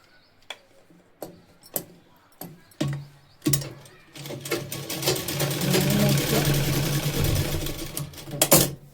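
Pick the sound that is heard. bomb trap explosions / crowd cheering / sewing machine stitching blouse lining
sewing machine stitching blouse lining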